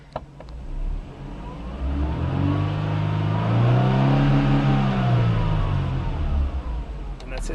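A Mercedes-Benz SLK 230 Kompressor engine runs at a smooth idle after a relay fix, its low steady hum swelling slightly in the middle of the clip before settling, heard close up.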